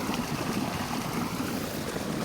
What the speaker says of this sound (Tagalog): Maganda ngayon ang daloy ng tubig.